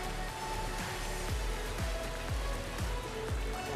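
Rain falls at the Takatsu River during a fishing trip, a soft, continuous, faint hiss of drops on water and surfaces with light irregular patter, no talking.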